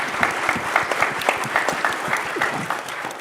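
An audience at a panel discussion with Western governors gives moderate applause. Individual claps stand out distinctly, and the clapping holds steady before thinning slightly toward the end.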